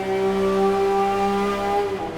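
A high-pitched Pagani Zonda engine in the video game Test Drive Unlimited 2 holds a steady, sustained whine at constant revs, loud and close throughout, with no talking.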